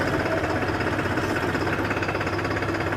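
A tractor engine runs steadily while the tractor turns, a continuous close mid-pitched knocking drone with a vibrating rattle and no voices.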